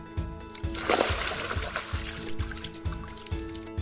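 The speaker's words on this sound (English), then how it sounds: "Like these wolves fishing in fresh water." Wolves fishing in fresh water make a burst of splashing and sloshing, loudest near the start and then trickling on. A steady, rhythmic low pulse runs underneath throughout.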